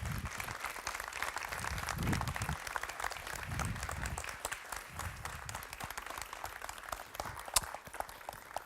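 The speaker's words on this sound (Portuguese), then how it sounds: "pedi uma grande salva de palmas" A theatre audience applauds a guest speaker called to the stage for an illustrated music lecture, steady dense clapping filling the room, fairly loud and continuous throughout, with a few louder claps standing out.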